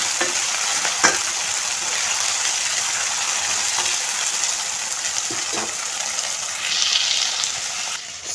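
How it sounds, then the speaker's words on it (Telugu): Prawns fry in hot oil with a continuous close sizzle, broken by a few clinks and scrapes as they are stirred in the pan. "ఇప్పుడు మనం వీటిని వేసి కాసేపు ఆయిల్లో వేసి వేయించుకుందాం"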